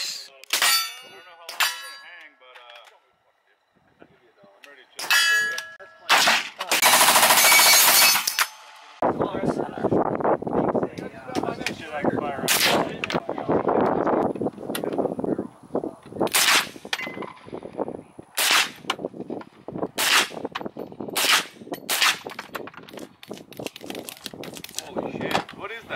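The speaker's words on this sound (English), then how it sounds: "Get a Colt Commando. Unsuppressed with a Gemtech brake on it." An unsuppressed Colt Commando rifle fitted with a Gemtech brake fires at an outdoor range, sharp loud cracks in irregular bursts with metallic ringing and clanging between, while people talk now and then.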